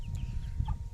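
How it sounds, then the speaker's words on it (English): Chicks and fowl on a farm in Negros island province, a few short clucking and peeping calls over low, breezy background rumble, fairly faint and close. "because there's some lots of chicks in here."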